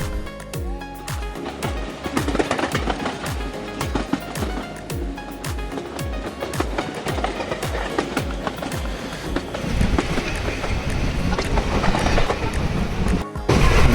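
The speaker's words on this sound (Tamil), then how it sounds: "ட்ரெயின் அது மூவ்மெண்ட் ஆகுது" Loud, steady rumble of a train running on rails, with regular clicking beats from the wheels over track joints throughout.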